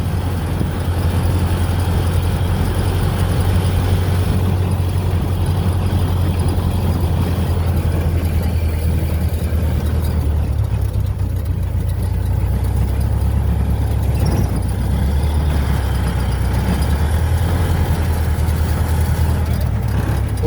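Model A rat rod engine idling steadily close by, a low rumbling drone that holds for the whole stretch with only slight swells, no talk heard over it.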